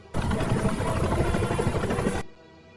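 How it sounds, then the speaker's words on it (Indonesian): Helicopters taking off in an action film, a dense, loud rotor-and-engine roar that starts abruptly, holds steady for about two seconds, then cuts off sharply. "Sedangkan 3 helikopter berangkat lebih dulu."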